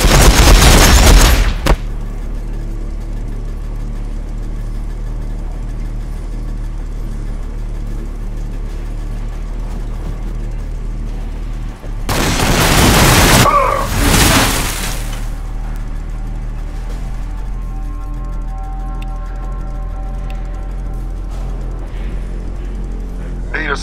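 Battle gunfire in a Warhammer 40,000 game, Blood Angels against an Ork horde: a sharp burst opens, then a loud roaring volley breaks out midway over a steady low background.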